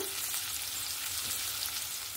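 Potatoes fry in hot oil with a steady, dense sizzle that stays up close and constant throughout.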